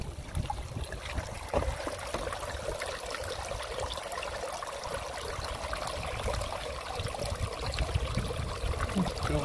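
Spring water runs from a pipe beside the Appalachian Trail, a steady close splashing and trickling that carries on unbroken for several seconds.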